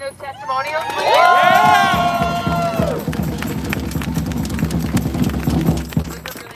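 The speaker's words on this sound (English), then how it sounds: "Can we get another round of applause for Kelly reading those testimonials, please" An outdoor crowd at a protest against Google layoffs outside the Google Store in New York cheers loudly, then breaks into dense, sustained clapping that continues to the end.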